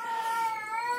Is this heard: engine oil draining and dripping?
no